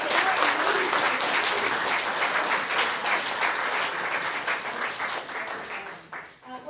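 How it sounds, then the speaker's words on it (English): Audience applause at an elementary school district speech contest, steady loud clapping from a crowd that tapers off toward the end. "let's give everybody another round of applause"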